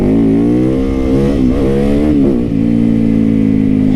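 A Yamaha YZ motorcycle engine revs steadily and loudly up close, its pitch swinging up and down around the middle of the run, with no talking.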